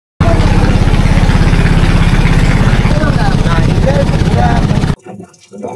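A boat engine drones loud and close while cruising the hill-ringed Matamuhuri River in Bandarban. It holds a steady, throbbing pitch for several seconds, then cuts off abruptly, leaving faint background noise.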